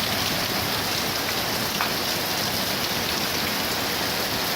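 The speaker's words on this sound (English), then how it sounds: "It's that heavy, this rain." Heavy rain pours down steadily on a farm, a dense, continuous hiss with gutters overflowing, no voices and no letup across the whole stretch.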